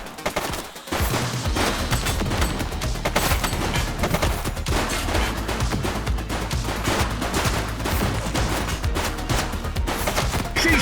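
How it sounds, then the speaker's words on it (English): Sustained heavy gunfire in the police game The Precinct, a dense, continuous barrage of shots after a brief quiet start, loud and close throughout without speech. "She's shooting!"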